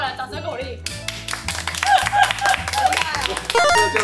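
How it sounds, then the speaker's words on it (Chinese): A small group claps briefly at a New Year shopping outing at a Tainan snack and gift shop, scattered light claps heard under chatter and background music. "掌声鼓励！"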